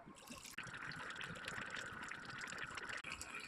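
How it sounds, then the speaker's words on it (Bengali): Water poured into a karahi of frying vegetables makes a steady, close trickling and filling sound, soft but continuous, with brief breaks near the start and end. "সবজি ভাজা হয়ে গেছে, জল দিয়ে দেব।"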